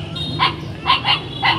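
Bac Ha dogs bark four times in close succession: sharp, fairly near yaps with a short gap, a quick pair, then a final bark, over a low steady background hum.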